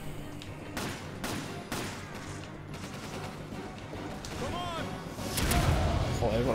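Resident Evil 5 co-op combat with sharp gunshot bursts and booming rocket explosions, a heavy blast near the end, while a player talks over the noise.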